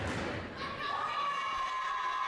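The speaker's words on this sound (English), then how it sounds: "Crowd making some noise." At a college wrestling event, crowd noise rises in an arena: a diffuse murmur with some cheering and a few thuds, carrying under a sustained tone throughout.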